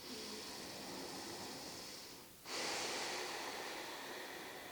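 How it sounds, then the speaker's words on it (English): A slow, close breath during a gentle yoga flow: a long, soft airy inhale fades out, then after a brief pause a stronger hissing exhale follows, with no speech. "start to tune in to your breath. So right away, just starting to notice your inhales"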